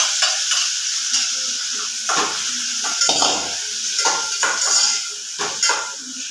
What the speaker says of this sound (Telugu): టమాటాలు పచ్చిమిర్చి ఫస్ట్ వేయించి కొయ్యాలి కదా